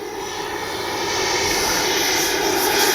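An FMS Avanti S 90mm RC jet with a KM afterburner flies overhead, giving a loud, steady turbine roar that swells slightly as it passes on a windy day.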